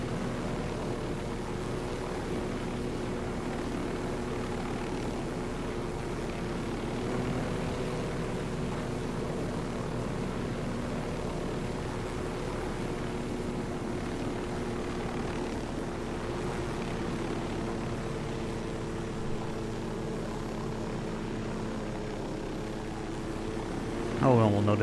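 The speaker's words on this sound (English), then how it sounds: "No one will notice the helicopter landing 100 feet away." A steady droning helicopter rotor hum in Tom Clancy's Ghost Recon Wildlands runs throughout, holding constant at moderate volume, with a brief louder rumble near the end.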